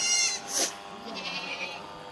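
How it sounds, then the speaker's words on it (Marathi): Goats belonging to the Sant Balumama temple at Admapur bleat in short calls, a couple of fairly close bleats over a busy outdoor background. "ह्या बाळूमामाच्या शेळ्या आहेत"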